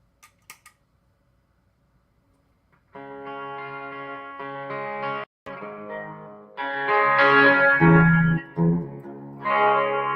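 A few faint taps, then a clean electric guitar plays sustained chords and notes, with brief pauses, growing louder toward the end.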